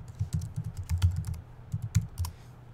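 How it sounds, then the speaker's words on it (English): Username and password being typed on a computer keyboard, a quick irregular run of soft close key taps with brief pauses, alone and fairly quiet. "Type in your username and your password."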